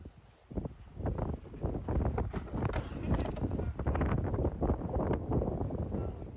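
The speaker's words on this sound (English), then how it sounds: "Windy." Strong gusty wind buffets the microphone throughout, a rough low rumble with irregular bursts that stays loud and close.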